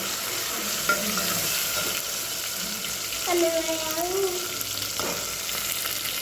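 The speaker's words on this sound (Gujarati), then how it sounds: "આપણે ટમેટા નાખી દીધા છે તેલમાં" Tomatoes fry in hot oil with a continuous soft sizzle and occasional stirring, while a voice speaks briefly in the background.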